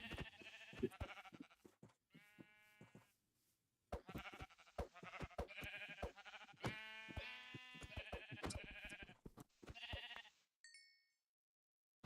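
Sheep in the Minecraft modpack BetterWithMods bleat repeatedly, loud and close, in bursts of several short wavering cries separated by brief pauses, ending in a quiet stretch with a faint chime-like blip.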